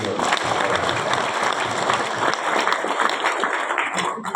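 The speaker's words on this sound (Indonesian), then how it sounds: "Tepuk tangan Bapak Ibu" A school graduation audience at MA Mambaul Hikmah Wonosobo claps in a dense, loud, continuous burst of applause that holds steady throughout, with voices faintly mixed in.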